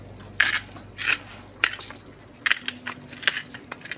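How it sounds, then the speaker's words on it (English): Black pepper being ground into a chicken Alfredo sauce, several short gritty crunching bursts at irregular intervals, close and moderately loud. "So now I'm going to add some black pepper to it."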